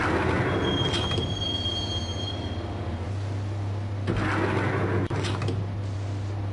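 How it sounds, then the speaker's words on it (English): A subway train ride in the Max Payne video game: steady rumbling carriage with metallic wheel squeals and a low droning hum, loud and continuous, with a sharp clunk near the end. "the train doors had already shut behind me, and I was in for the ride"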